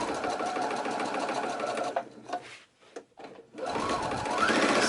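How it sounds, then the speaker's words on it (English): A sewing machine stitching heavy upholstery-weight fabric for a messenger bag runs loud and steady up close, pauses briefly with a few clicks and knocks, then starts humming again, with no talking over it. "So I'm sewing all the way down."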